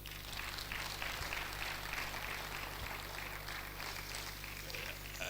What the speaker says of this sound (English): I will ask you to also give him a warm round of applause.